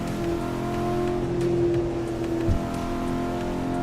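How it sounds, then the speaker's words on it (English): A Cadillac CT5-V Blackwing's V8 engine drones steadily and fairly loud, swelling slightly as it revs and then easing back, with no talking over it. "What car is that? The V8 sounds very nice."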